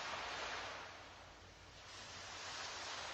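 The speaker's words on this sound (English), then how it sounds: "those waves on the beach can comfort you" Ocean waves washing onto a beach make a soft, continuous rushing wash that swells and eases gently, distant and quiet, with no talking.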